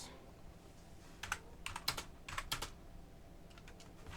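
A wobbly, loose computer keyboard typed on in short bursts of clicking keystrokes, close and clear against a quiet room, with pauses between clusters of presses.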